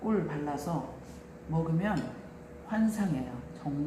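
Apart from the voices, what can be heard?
No everyday noises stand out.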